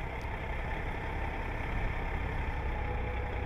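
Semi truck tractor-trailer engine idling as the rig reverses on a backing course, a continuous low diesel rumble that holds steady and close, with no voices.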